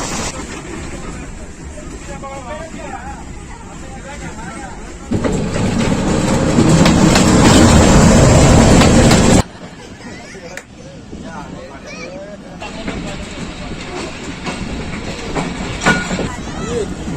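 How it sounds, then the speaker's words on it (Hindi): Pakistan Railways Shah Hussain Express, hauled by locomotive ZCU-206418 on the down track, runs with steady rumbling and clattering wheels that swell louder midway, then drop back to a quieter rolling rhythm. "अब ट्रेन जो है वो डाउन ट्रैक पर है"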